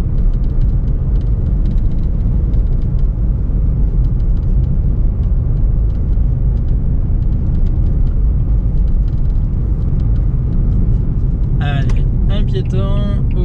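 A car in third gear holds a steady engine drone and road rumble while speeding up gently on a limited-speed road, heard from inside the cabin as a person talks throughout.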